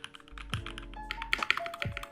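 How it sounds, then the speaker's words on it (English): Typing on a $700 custom mechanical keyboard, with crisp, rapid keystrokes clicking in an uneven rhythm, close and clear with no talking. "I absolutely love the sound of this keyboard."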